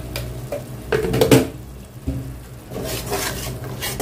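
Spice paste being stir-fried in a pan with salt for a country chicken curry with potatoes, with scraping stir strokes and soft sizzling that rise and fall in irregular bursts.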